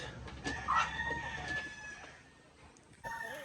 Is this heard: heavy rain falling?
no